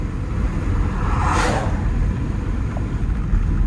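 A 1957 Chevy Bel Air cruising on a road, a steady close engine rumble with road and wind noise and a brief whoosh of passing traffic, no talk.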